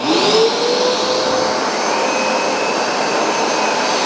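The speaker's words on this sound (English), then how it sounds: "Let's try the Hoover SmartWash now." Hoover SmartWash Pet carpet cleaner running, a steady loud motor roar with a high whine, the pitch rising briefly at the start then holding constant with no talking.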